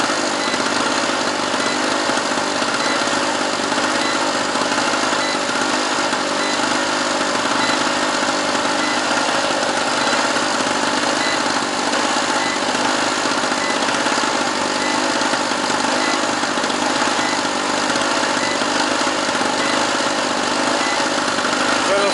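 A portable electric generator engine under repair runs steadily at a constant drone, loud and close with a broad buzzy hum, and carries a light bulb load.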